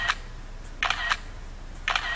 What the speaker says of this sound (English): You can also turn that shutter noise off if you like